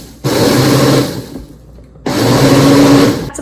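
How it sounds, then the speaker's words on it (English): A blender whirs through mangoes, ice, sugar and milk for a mango smoothie, running loud and close in two steady bursts separated by a brief pause, with no voices. "Like you saw, I just got some mangoes, cut them, put them in this blender."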